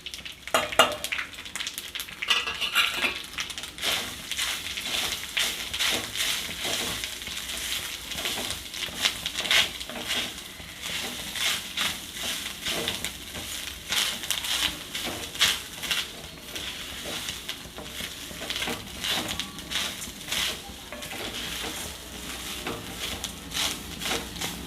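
Grated coconut stirred into a rice mixture frying in a pan for coconut rice, a continuous close sizzle with steady scraping and stirring strokes that run throughout, no talking.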